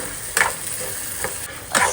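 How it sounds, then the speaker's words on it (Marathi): Peas curry sizzling in a kitchen pan, a soft constant simmering hiss with a few sharp stirring scrapes, close-up and without talk. "माझ्या वाटाण्यांचा असा आवाज सूर येतोच आहे."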